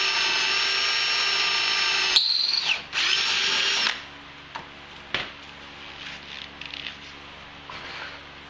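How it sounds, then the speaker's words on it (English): A power drill whines loudly, dips as it bites into an aircraft airframe for a rivet hole, then whirs again briefly before stopping, followed by a few scattered clicks and knocks. "They call out drilling a hole, popping a rivet in on the side."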